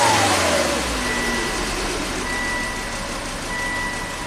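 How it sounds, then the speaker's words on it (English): A Volvo car engine with a blown, grenaded motor revs up once and then holds a steady loud idle, close by with no talk. "I'm going to rev it up once."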